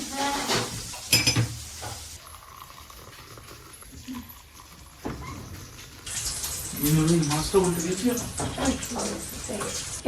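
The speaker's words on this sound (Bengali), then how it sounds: "জল গরম হয়ে গেছে ঢেলে দেবো আমি" Hot water is poured into cups to make black coffee in a home kitchen, with a bubbling, splashing pour and light clinks of cups. People talk over it.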